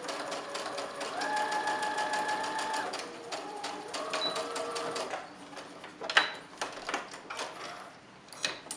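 A sewing machine stitches a fabric mask cover, back tacking at the start and then running along the seam in steady bursts, close and fairly loud, with a few sharp handling clicks near the end.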